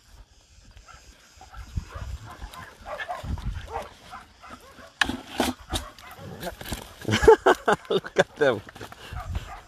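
Shelter dogs bark and yip in loud, irregular bursts while playing roughly together, the barking growing busier in the second half, with someone talking over them.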